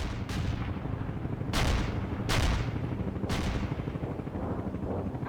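Gunfire crackles in the World in Conflict video game, with several sharp, reverberating shots over a constant low rumble of battle. Each report rings out and fades into the steady din of distant combat.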